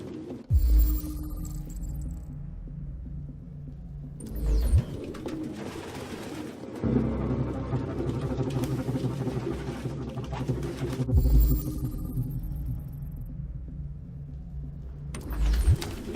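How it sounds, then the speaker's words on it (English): Pigeons coo in Detroit: Become Human, a dense, continuous murmur of many birds filling a room, with repeated soft burbling calls, muffled thumps and a low background hum, no voices. "No human could live with all these fucking pigeons."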